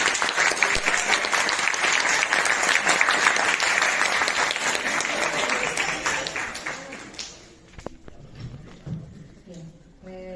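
A lecture audience claps loudly and steadily to welcome a biologist guest speaker. The dense applause fades over several seconds into scattered claps and room noise.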